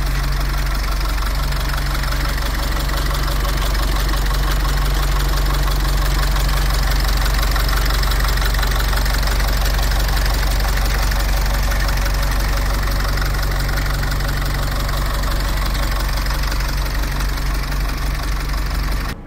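A single-decker bus with a diesel engine and Hanover destination blinds idles up close, giving a loud, steady low rumble with a knocking pulse that continues unbroken throughout.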